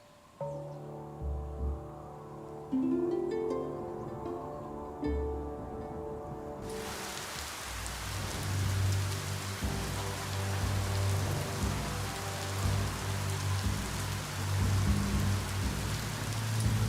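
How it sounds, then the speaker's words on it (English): Steady, dense rain falls in the video game Biomutant, starting abruptly partway through and continuing loud and unbroken to the end, after a stretch of soft melodic game music. "When it rains, it gets wet."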